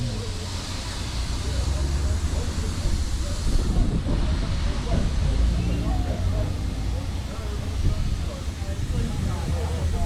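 Steam locomotive 7812 Erlestoke Manor stands at Blue Anchor station on the West Somerset Railway, hissing and rumbling steadily up close with a broad continuous roar and low engine throb.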